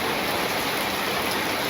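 Heavy rain falling steadily, a dense, even hiss of drops with no pauses across the whole moment.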